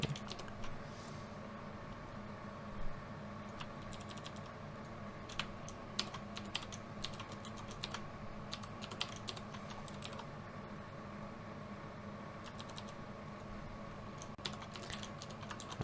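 Quiet, steady tapping of keys on a computer keyboard, bursts of rapid clicks continuing throughout with short pauses in between.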